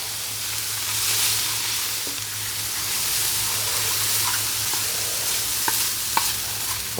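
Seasoned vegetables for a Mediterranean stir fry sautéing on a Firedisc cooker outdoors, a steady close sizzle with a low hum beneath and a few light clicks of a utensil toward the end.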